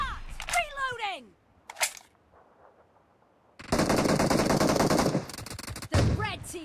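Gunfire in a shooter video game, a long loud automatic burst lasting over a second and a half with a short resumption after, set between chirpy game effects and quieter gaps.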